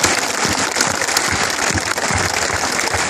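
An audience at a Hindi poetry recital claps in dense, steady applause for the whole stretch, loud and sustained with no voice over it.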